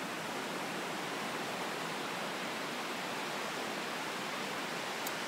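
Ocean surf at La Jolla beach at night, a steady broad hiss of breaking waves with no distinct individual breakers, continuous and even throughout.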